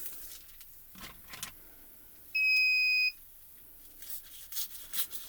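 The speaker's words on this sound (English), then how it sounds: "The beep is telling us our die is heated up and ready to go" A Gemini FoilPress gives a single electronic beep as its heated die becomes ready, high-pitched and steady for under a second, amid quiet handling noises nearby.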